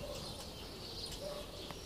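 Cooing of pigeons of a unique breed near a rooftop, a soft low call repeating over a steady outdoor background hum, with a faint chirp nearby.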